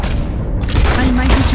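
Gunfire in Red Dead Redemption 2, a dense burst of loud shots and booming blasts packed into a moment, with a voice faint underneath.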